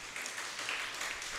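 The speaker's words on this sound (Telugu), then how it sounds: "ఒక్కసారి చప్పట్లు కొట్టి దేవుణ్ణి మహిమపరుద్దామా?" An audience claps together during a church gathering, praising God at a preacher's invitation: a dense, steady wash of many hands through the whole stretch, with no talking over it.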